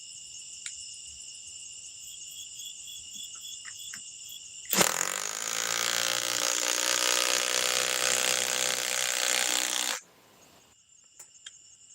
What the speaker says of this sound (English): now, let's go with the subcompact M12 fuel impact wrench